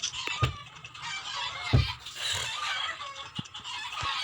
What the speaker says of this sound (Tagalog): lalo na nag-ingay mga manok.